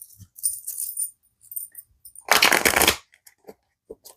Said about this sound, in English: it's so difficult to try and shuffle cards from behind a camera.